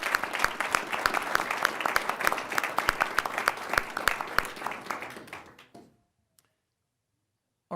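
An audience at a school board meeting breaks into dense, sustained applause for about five seconds before it fades out and the room falls quiet.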